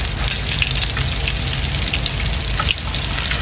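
Bottle gourd leaves fry in a small amount of oil, a loud, dense crackling sizzle that runs unbroken and close, with no voices.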